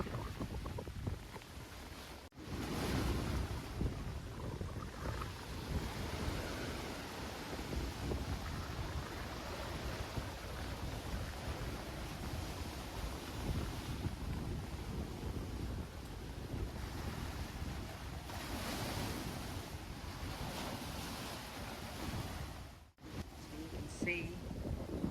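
Rough ocean surf splashing near a mangrove by a Samoa village, a continuous washing roar with heavy wind buffeting the microphone throughout.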